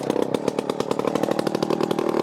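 A Solo Rex chainsaw engine runs at high revs nearby, a loud, raspy, buzzing roar that holds steady with slight pulsing throughout and has no voices over it.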